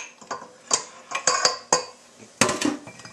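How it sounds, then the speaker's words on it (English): Leftover bacon grease is scraped out of a cup for homemade dog treats: a close series of short, uneven scrapes and clinks with pauses between strokes and no voices. "I'm going to get all that bacon grease out of that cup."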